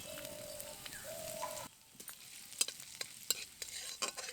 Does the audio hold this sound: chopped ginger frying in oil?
yes